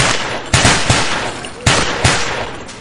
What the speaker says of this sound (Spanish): Está disparando unas rondas de práctica